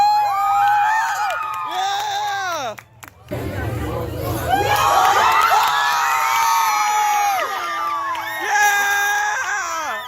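A crowd of fans screams and shrieks loudly at a surprise appearance by Tom Holland in a Spider-Man mask, with piercing overlapping cries that cut off briefly before surging again.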